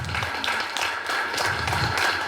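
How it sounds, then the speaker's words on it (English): Steady applause from an audience at a conservation district awards dinner, continuous clapping with a few louder swells, no voices standing out. "let's give him a round of applause."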